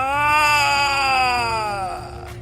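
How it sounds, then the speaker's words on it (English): A man screams in pain in an audio drama, a single long strained wail that slowly falls in pitch and trails off, loud and close, with no talk over it. "Quentin was screaming in pain"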